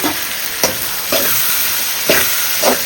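Tomatoes frying with onion and garlic for a fish curry, a loud steady sizzle in hot oil broken by several scraping stirs of a spoon across the pan, close by and continuous.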